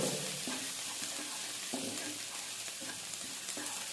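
Ginger and garlic fry in oil toward light golden brown for aloo palak, a soft steady sizzle broken by repeated rhythmic stirring scrapes, fairly quiet and without talk.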